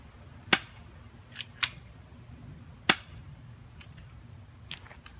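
Shots from a 1911 pistol fired at a fairly fast pace: several sharp cracks at irregular intervals, two of them loud and the rest fainter, with no voices.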